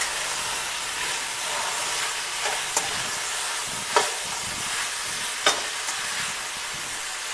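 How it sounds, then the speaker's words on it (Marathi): Fresh green peas and mixed vegetables roast in a pan, a steady close sizzle with a few sharp scrapes of stirring; no one speaks. "वाटाणा ओला वाटाणा मटार हे सगळं भाजून घ्यायचं."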